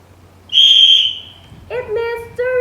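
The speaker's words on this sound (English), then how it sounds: "if you hear whistle once like this" A tour guide's whistle blown once in a single loud, sharp, high tone lasting about half a second, followed by the guide's voice speaking nearby.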